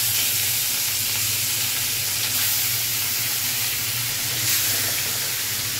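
Tilapia pieces rubbed with chili powder, turmeric and salt fry in hot oil, giving a loud, continuous sizzling hiss that holds steady throughout.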